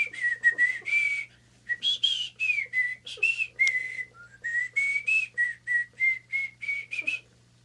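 A man whistles a lively, unaccompanied tune outdoors, a long run of short clear notes in quick rhythmic phrases with a brief pause near the start, close and fairly loud.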